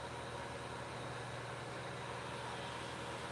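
A car starting out of a home garage gives a faint, steady low engine idle with a soft even rumble and no voices.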